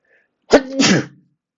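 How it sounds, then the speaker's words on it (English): One sharp sneeze, close and loud, with a quick intake then a burst that ends abruptly; silence around it. "I have to sneeze."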